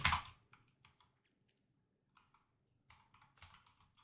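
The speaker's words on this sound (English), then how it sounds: "Sometimes I hate typing on this tiny keyboard." Light, sparse keystrokes on a tiny computer keyboard, quiet clicks in short bursts separated by pauses, starting with one louder tap.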